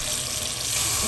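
Cold tap water pouring steadily into a bowl of dried wood ear mushrooms, a close, continuous splashing rush with no pauses.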